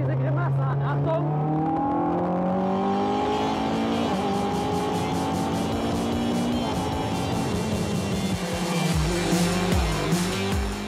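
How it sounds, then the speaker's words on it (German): BAC race car driving hard, its high engine note rising and falling through sequential gearshifts, with tire squeal and a deep rumble near the end; loud and close throughout. "Der BAC ist Rennsport pur."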